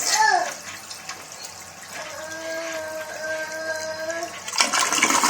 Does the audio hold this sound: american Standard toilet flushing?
yes